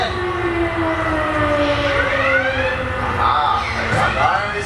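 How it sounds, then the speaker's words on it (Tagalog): An alarm siren warns of a restless volcano at a bird show in Malaga, a loud wailing tone that rises and falls continuously over crowd noise. "The alarm is sounding off."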